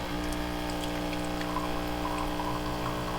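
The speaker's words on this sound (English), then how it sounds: "we just want to turn on the steam wand just to flush out that system." A Delonghi COM532M espresso machine flushes its steam wand during descaling, giving a steady, close hiss and gurgle of steam and water with a constant hum underneath and no talking.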